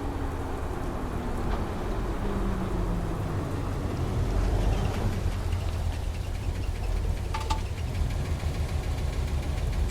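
A car engine idles steadily on a deserted road at night, a low continuous rumble running the full length with a faint steady hiss over it and no talk.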